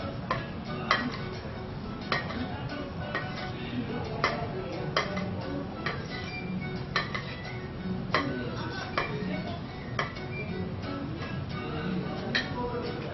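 Ingredients and kitchen salt being mixed in a bowl for solterito de chuchicc, a spoon clicking and scraping against the bowl in a steady, uneven rhythm of light taps over a soft constant background.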